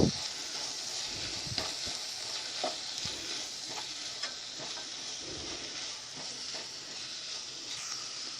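Biryani masala with salt stirred in a hot pan, a soft steady sizzle under repeated scraping and knocking of the spoon, close and fairly quiet with no talking.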